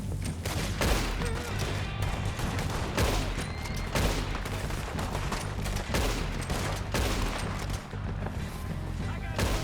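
Dense gunfire in Red Dead Redemption 2: a steady fusillade of rifle and pistol shots crackles through the whole stretch, mixed with deep booms and game music, while voices shout over the battle.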